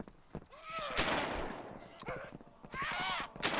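Sharp DayZ gunshots crack at irregular intervals, several close loud reports mixed with overlapping voices talking over the firing.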